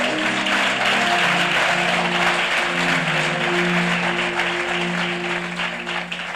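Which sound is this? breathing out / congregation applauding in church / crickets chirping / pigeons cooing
congregation applauding in church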